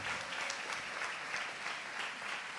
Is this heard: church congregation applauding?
yes